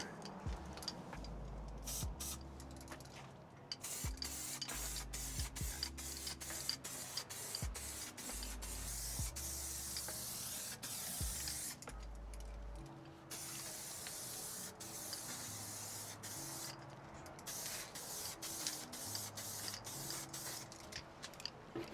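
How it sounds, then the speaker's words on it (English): A spray can lays a coat of paint on a Harley-Davidson Sportster motorcycle fender, giving a steady close hiss over about twenty seconds, broken by frequent small clicks and rattles. "let's go give that fender another coat of paint real quick"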